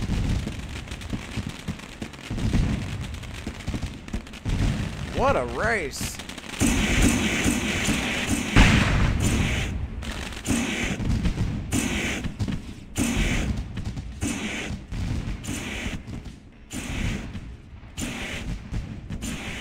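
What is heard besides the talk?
fireworks exploding at a speedway after a race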